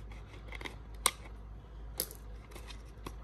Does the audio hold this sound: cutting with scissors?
yes